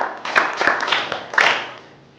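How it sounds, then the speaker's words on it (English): A group of staff claps at a nursery and primary school professional development session, a short burst of uneven hand claps with a few sharp peaks that tapers off toward the end. "Let us clap for teacher for that."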